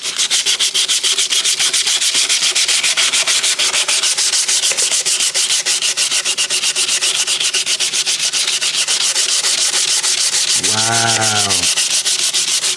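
Loud, steady rubbing of 80 grit sandpaper against bodywork in a car engine bay, a continuous coarse scratching that runs through the whole span, with a short exclamation near the end.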